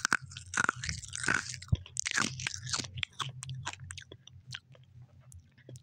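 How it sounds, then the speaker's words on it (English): Close, loud chewing of food, with crisp crunchy bites and wet mouth sounds in irregular bursts separated by short pauses, no talking. "I gotta just chew on the rest of this"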